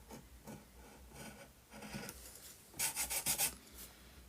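A scalpel scores stone lines into soft MDF for a model French chateau wall. Faint, dry scraping strokes repeat steadily, ending in a quicker cluster of short scratches.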